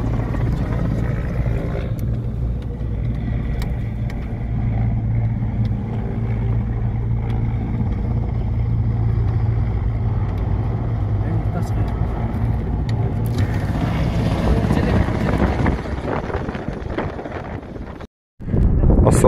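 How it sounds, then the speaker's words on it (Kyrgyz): Strong wind buffeting the microphone on an open mountain road near the border in Chon Alai, a continuous low roar with a vehicle engine hum underneath, brief talk, and a sudden dropout near the end. "Шамал."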